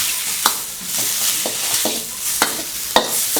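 Wide rice noodles for pad kee mao, with kaffir lime leaves, stir-fried in a pan: a steady sizzle broken by irregular spatula scrapes and sharp clacks against the pan, close and with no talking.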